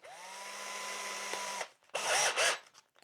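An electric drill fitting grip studs to a Suzuki DR650 motorcycle tire whirs at a steady pitch for about a second and a half, then stops, followed by brief rattling handling noises.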